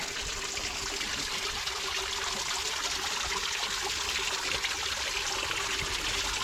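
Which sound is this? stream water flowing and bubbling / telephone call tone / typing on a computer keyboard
stream water flowing and bubbling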